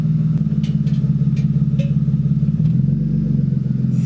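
The engine of a BMW E36 323i idles with a steady low rumble and a rhythmic throb, and the pitch dips slightly as the clutch is slowly let out and starts to bite. Close and loud, with no talk.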